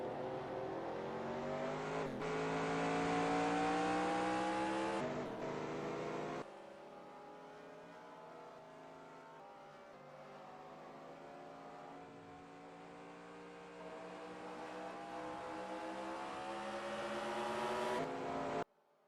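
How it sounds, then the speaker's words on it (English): Race car in a racing video game spinning its tires as it leaves the pits at Talladega, a loud sustained engine drone with rising revs and abrupt cuts. "he's just burning the tires coming out"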